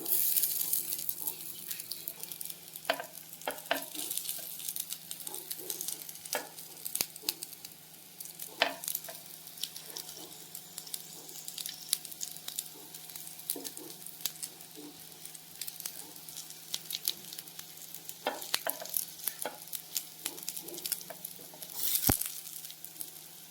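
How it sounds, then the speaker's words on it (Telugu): Veg kebabs deep-frying in oil on a dosa pan over a medium flame give off a soft, continuous sizzle, dotted with small pops and occasional clicks, at fairly low volume. "దీనిపైన ఇలా ఆయిల్ అప్లై చేసి మీడియం ఫ్లేమ్లో పెట్టి ఇలా డీప్ ఫ్రై చేసుకోవాలండి 2 సైడ్స్"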